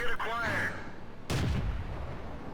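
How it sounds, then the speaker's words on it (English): Tank cannon fire in the World of Tanks video game, a single loud blast followed by a decaying rumble, with a sweeping tonal whine and game effects before it. "Taking shots at the AMX-13."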